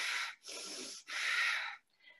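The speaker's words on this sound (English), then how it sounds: "So this is a forceful inhalation and a forceful exhalation." Bhastrika yoga breathing, forceful inhalations and exhalations during a vinyasa class, heard as three loud, close, rushing breaths in quick succession followed by a softer trailing breath, with no talking.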